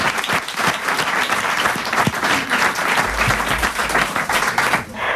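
A studio audience applauds loudly in a dense, continuous wash of clapping that stays even from start to finish, with a few scattered voices and cheers mixed in.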